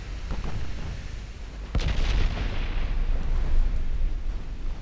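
Flash fires explode aboard warships in Ultimate Admiral Dreadnoughts, a few faint pops giving way to a sudden sharp blast that rolls into a sustained low rumble and crackle.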